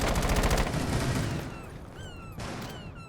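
Rapid automatic gunfire in the video game Rainbow Six Siege rattles in a sustained burst that fades out, followed by quieter scattered in-game sounds.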